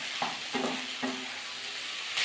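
Vegetables with three green chillies and tomato are stirred in a frying pan, a constant sizzle broken by three quick scraping strokes of the spoon, close and moderately quiet.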